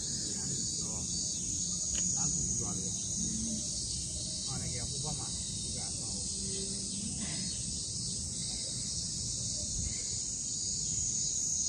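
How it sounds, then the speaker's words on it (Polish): Cicadas buzz in a constant high, shrill drone throughout, with faint distant chirping and soft background sounds beneath. "Cykady cały czas słyszycie."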